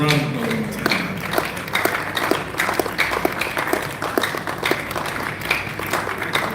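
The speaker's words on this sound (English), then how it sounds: "Please, a round of applause." An audience at a real estate panel event claps in a moderate round of applause with sharp, scattered hand claps. The clapping carries on steadily throughout, with faint background murmur underneath.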